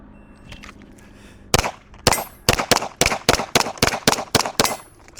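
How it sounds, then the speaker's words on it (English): Pistol shots fire one after another at a steady, unhurried pace at steel targets on an outdoor range, about a dozen loud sharp cracks with ringing impacts, no voices. "let's see what it's like to shoot slow"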